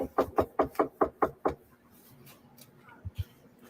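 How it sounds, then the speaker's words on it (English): Someone knocks at a door, seven quick, loud, evenly spaced raps followed by a pause and then two softer knocks. "this started off with them knocking at the door"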